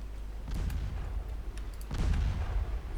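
Two muffled, heavy booms sound as torpedoes strike a ship in the naval battle game Ultimate Admiral Dreadnoughts, the second hit deeper and louder, over a low rumbling background.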